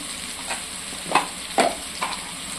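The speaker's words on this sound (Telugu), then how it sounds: "లవంగాలు అలాగే చిన్న దాల్చిన చెక్క రెండు యాపులు వేస్తున్నాము" Cloves and cinnamon fry in a clay pot while biryani is being made, giving a steady, dense sizzle with three or four short stirring scrapes, close up and without speech.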